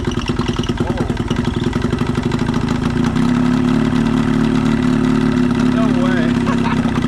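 A broken outboard motor runs rough on old carburetor fuel, its close, steady idle chugging with an uneven, lumpy beat and rattling clatter throughout.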